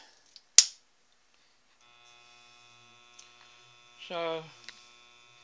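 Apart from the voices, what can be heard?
Taig lathe spinning at about 70 RPM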